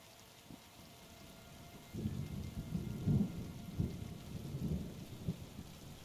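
In Kingdom Come: Deliverance II, steady rain hisses softly while low thunder rolls in and rumbles repeatedly, swelling and fading in uneven waves.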